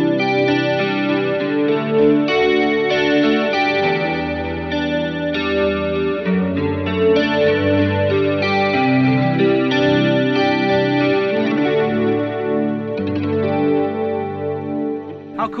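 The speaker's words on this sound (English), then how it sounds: "if you want a chorus sound, you can actually bring up the detune. Okay, and you get a chorus effect." An electric guitar plays a melodic passage through an Electro Harmonix POG2 octave pedal with detune raised, giving a shimmering, doubled chorus tone with rich harmonics; the notes ring continuously and fairly loud, and no one speaks.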